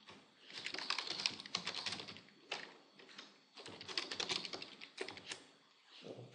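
Fast, uneven bursts of typing on a computer keyboard while a post title is entered, with close, crisp key clicks and short pauses between runs of keystrokes.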